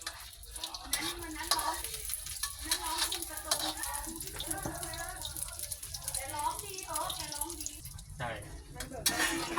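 Beaten eggs poured into plenty of hot oil over high heat for a fluffy, crispy Thai-style omelette, sizzling and bubbling steadily throughout with stirring and scraping, while someone talks over it.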